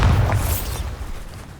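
A Bombarda spell explosion in Hogwarts Legacy, a single loud booming blast at the start that rolls off into a fading rumble and debris hiss over about a second.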